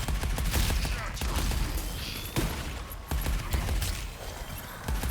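Default assault rifle blasting away in the arcade shooter Arcadegeddon, a dense run of rapid shots layered over game effects and music, loud and close throughout.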